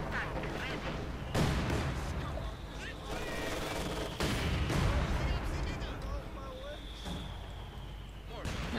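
Mortar fire in the real-time strategy game Company of Heroes 2 during a 1v1 match, a few heavy booming impacts and distant gunfire rumbling behind a commentator's voice.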